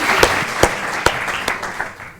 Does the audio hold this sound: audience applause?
yes